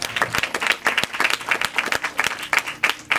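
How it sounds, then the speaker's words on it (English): Audience at a town award ceremony breaks into lively applause, dense overlapping claps with a few sharper individual hits, fairly close and steady throughout. "Please give yourself a round of applause for being part of the solution."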